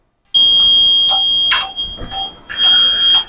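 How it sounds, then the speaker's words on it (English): A building-wide fire alarm: a loud, piercing electronic tone starts suddenly and keeps sounding, with brief warbling shifts in pitch as it continues. "I'll do an alarm in the whole building."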